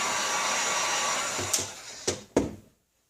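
A heat gun blows a steady, loud airy roar over an epoxy resin tile coaster, then shuts off with a few clunks as the blower winds down into silence.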